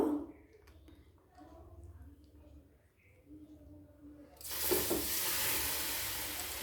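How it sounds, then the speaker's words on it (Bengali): Cabbage leaves dipped in gram-flour batter drop into hot oil. Quiet talk comes first, then a loud, dense frying sizzle bursts in and holds steady to the end. "বেসনের ব্যাটারে ডুবিয়ে তেলে বেজে নেব"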